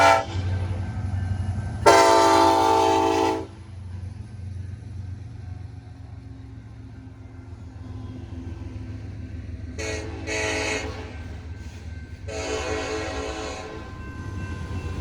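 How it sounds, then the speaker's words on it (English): A freight train's engineer sounds the horn: one long, loud blast, then after a pause two more blasts close together, all over a constant low rumble of the train on the rails. "if you look down the tracks, you can see a guy walking along it, as the engineer's blowing the horn trying to get him to come off the tracks"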